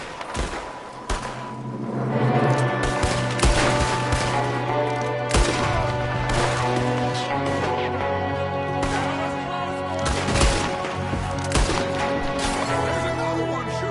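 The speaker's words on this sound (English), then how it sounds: "There's another one shooting from the window." Gunfire in the video game Red Dead Redemption 2, with repeated loud shots and crashing bursts scattered across a shootout, set over a sustained musical score.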